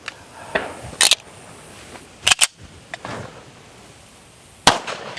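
Pistol shots at an outdoor range during one-handed practical shooting training, several sharp reports spaced irregularly, including a quick pair, with softer distant pops between them.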